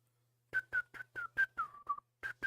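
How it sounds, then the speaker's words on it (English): A person whistles a short catchy melody from childhood, close and alone, in about eight crisp separate notes with a brief pause before the last two. "I would always whistle that all the time when I was a kid"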